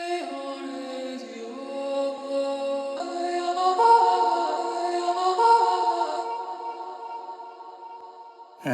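A dark orchestral voice sample from an Arcade Ancient Message bank plays dry with no effects: sustained, layered, choir-like tones that slowly swell and shift, ending with a brief low thump.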